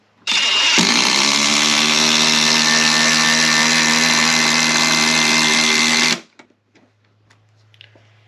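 A Craftsman V20 brushless impact driver drives a 4-inch timber lock screw into wood without a pilot hole, giving a loud, continuous rapid hammering whir for about six seconds before stopping abruptly, followed by a few faint clicks.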